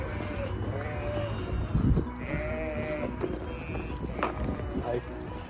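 Sheep bleating in the countryside near Brougham Castle, several wavering bleats from a flock at middle distance, heard under someone talking while walking with a phone.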